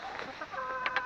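Chickens settled in their coop for the evening give soft, close clucks, a low murmur followed by two sharper clucks near the end, with no voices.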